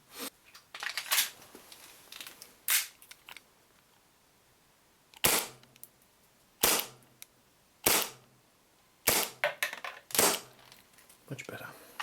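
An Armorer Works Deadpool 1911 pistol, an airsoft replica, fires through a chronograph in a dozen or so sharp, snappy shots, some single and some in quick pairs, with brief quiet gaps between them.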